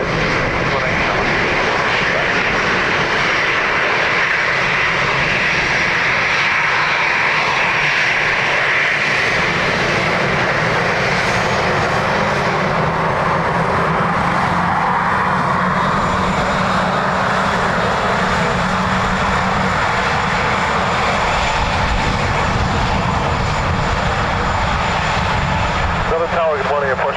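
Ryanair jet airliner landing on runway 28 left at Dublin Airport, a loud sustained engine roar and rushing noise throughout, with radio voices talking over it.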